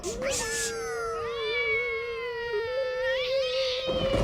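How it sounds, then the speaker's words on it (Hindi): A cat lets out one long, drawn-out meow that rises and wavers for about four seconds, loud and close. "चल चल बिल्ली, आजा आजा बिल्ली। म्याऊ, म्याऊ, म्याऊ।"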